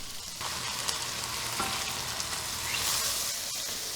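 Hot water poured into a hot pan of stroganoff hisses and sizzles loudly, a steady frying crackle with a brief stir partway through.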